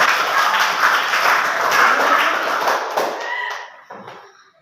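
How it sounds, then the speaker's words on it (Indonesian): A classroom of pupils claps for a girl named Jenny during a maths concentration game, a dense burst of hand claps that tails off after about three seconds. "Tepuk tangan untuk Jenny"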